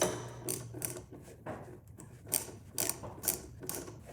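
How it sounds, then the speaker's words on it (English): A quick-release hex bit driver backs out a bolt on a BMW R1250 RS motorcycle during a Dominator HP6 slip-on exhaust fitting, giving a series of close, sharp ratcheting clicks and mechanical clatter in uneven bursts. "So you just remove this bolt."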